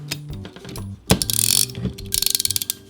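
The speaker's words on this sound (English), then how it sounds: "What you really need is an actual 4-gauge crimper." A 4-gauge crimper squeezing a terminal onto a car stereo amplifier power wire, a few sharp mechanical clacks followed by rapid ratcheting clicks, close and loud, with no talking.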